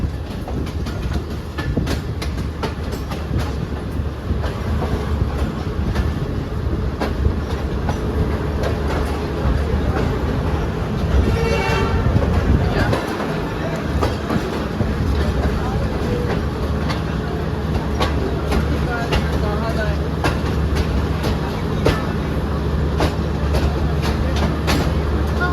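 Allama Iqbal Express passenger train running from Sialkot to Lahore: steady loud rumble of rolling coaches with rhythmic clickety-clack over rail joints, continuous throughout, with faint voices in the background.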